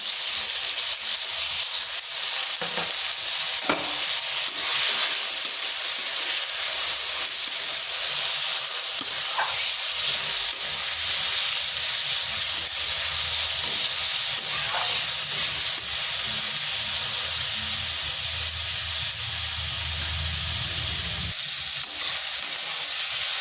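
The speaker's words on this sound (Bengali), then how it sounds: "আলু আর গাজর দিয়ে দিচ্ছি।" Thin-cut potatoes and carrots fry in hot oil in a kadai wok, producing a continuous, loud, bright sizzle and hiss with occasional faint clinks, and no talking.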